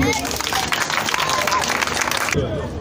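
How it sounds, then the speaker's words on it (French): Audience applause at a Mother's Day celebration and trophy final in a village setting: dense, steady clapping fills the space for over two seconds, then cuts off abruptly near the end. "On applaudit."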